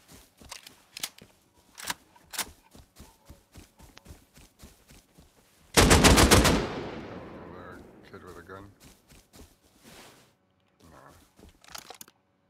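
Footsteps crunch steadily through the video game Rust, then a sudden loud burst of AK rifle gunfire erupts with rapid shots and a lingering echo before footsteps resume.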